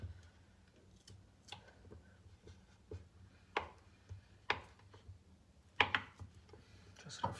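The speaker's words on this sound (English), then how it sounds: "Gonna cut the butter in small cubes" A knife cuts butter into small cubes on a board, giving sparse, faint taps and thuds at an irregular pace over a quiet background.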